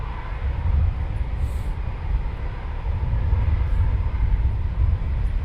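Aircraft taxiing at RAF Coningsby, a steady low engine rumble that holds loud and constant throughout, with no voices.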